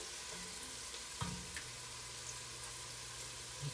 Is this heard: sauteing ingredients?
yes